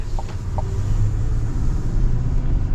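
A GMC Sierra 3500 AT4 with the Duramax diesel and 10-speed, driving: a steady, low cabin rumble of engine and road noise, unbroken throughout.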